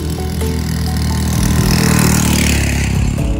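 A motorcycle engine runs steadily and loudly up close on a narrow village road in Dieng, a constant low drone with slight rises in revving, no voices.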